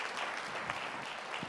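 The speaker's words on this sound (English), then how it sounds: "And a round of applause for them." Faint, distant applause for conference staff and technicians, a steady wash of many hands clapping with no one speaking over it.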